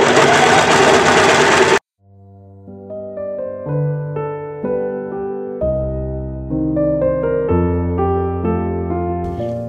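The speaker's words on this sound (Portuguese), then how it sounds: "agora, eu vou passar essa parte na overlock" An overlock serger runs along the edge of a pillowcase in a loud, steady whir for just under two seconds, then cuts off abruptly as gentle melodic music takes over.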